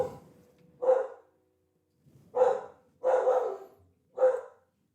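A dog barks four times in short, sharp bursts with brief pauses between, a little distant, while hay is being moved nearby; no talking is heard.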